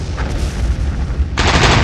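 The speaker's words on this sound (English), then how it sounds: "He briefly turns on the searchlights and fires 2 broadsides to find the range." Warship broadsides fired at night into a harbour, heard as a dense rumbling roar of distant artillery with a sharp, louder burst of blast near the end, no voices.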